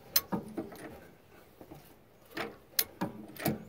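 A big wrench works a stubborn front shock bolt on a Ford F53 motorhome chassis, giving scattered metallic clicks and short ratcheting bursts that come in uneven groups, close and fairly quiet.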